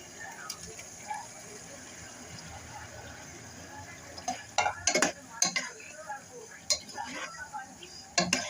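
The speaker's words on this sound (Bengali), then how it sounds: "আমি এখন নেড়ে চেড়ে এটাকে মিশিয়ে নেব" Boiled potatoes and chopped tomatoes stirred in a cooking pan, with soft scraping and a few sharp clinks of a utensil against the pan over a faint background hum.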